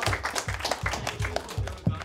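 An audience claps loudly at a Bengali talent show, a rhythmic run of about six or seven distinct, close claps in steady succession.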